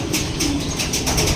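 Racing pigeons cooing close by, a soft throaty coo rising over a dense background of rustling and other birds, brief and fairly loud, with no talk.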